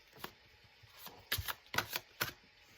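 Tarot cards riffle and slap together in three or four quick, close shuffling bursts that grow louder toward the end, with no voices.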